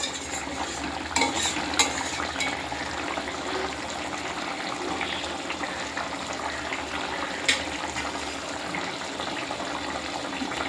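Fish curry bubbles and sizzles in a pan with its gravy, a steady wet simmer broken by a few sharp clinks of the stirring spoon against the pan.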